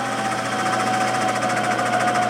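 An Acer Ultima 10-inch by 50-inch milling machine runs at low spindle speed, giving a steady, continuous mechanical hum with a constant whine and a faint rattling texture, close and unbroken throughout.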